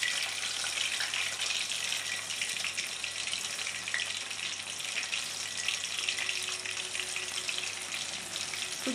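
Kerala nenthiram banana slices roasting in a pan give a steady, dense sizzle and crackle of frying that runs unbroken at an even level throughout.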